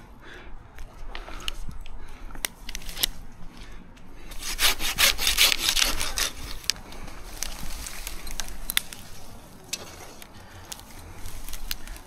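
A hand pruning saw rasps through a branch of a mature fir, quick rhythmic strokes close by that speed up into a dense burst midway, then slow to scattered pulls and scrapes, with outdoor ambience around.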